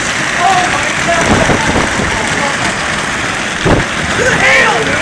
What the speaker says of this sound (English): The hail, dude. Golf ball.